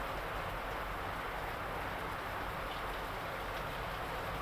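Steady rain falls without letup, a dense, even hiss across the whole stretch with no clear individual drops standing out.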